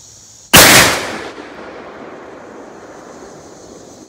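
A single loud gun blast from a slug fired out of an H&R 32 gauge shotgun at an outdoor shooting range, sharp and close, followed by a quick fading echo and quiet background.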